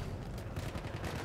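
Turret gunfire in the Battlefield 1 video game, a dense, continuous rattle of shots that holds steady and fairly loud through the whole short stretch, with no talk over it.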